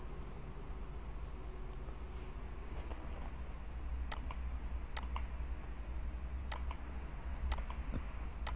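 A computer keyboard is tapped while working in an Excel spreadsheet, a few sharp clicks in short clusters over a steady low background hum.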